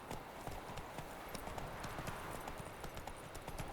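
Horse hooves clip-clopping in a steady galloping rhythm while riding in The Witcher 3, continuous and fairly quiet under a dense game soundscape.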